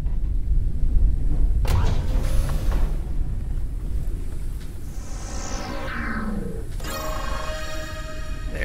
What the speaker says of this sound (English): There's our engines.